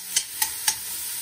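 A spoon stirs black pepper through a sizzling pan of lamb fricassee, giving three quick, close scraping strokes over a steady frying hiss.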